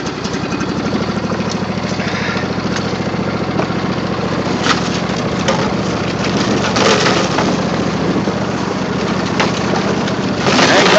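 A tractor engine running in snowy winter conditions, a steady, loud mechanical drone with a rhythmic chug that holds throughout, swelling slightly in places, close to the listener.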